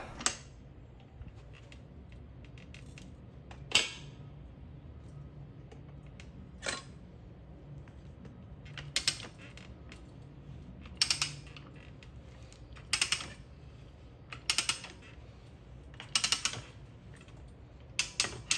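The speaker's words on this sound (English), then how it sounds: "get this ratcheting arm here, and we're just going to start" A tire changer's ratcheting arm works the bead off a street motorcycle tire, producing scattered sharp metallic clicks and snaps, sometimes single and sometimes in quick clusters, over a quiet background hum without talking.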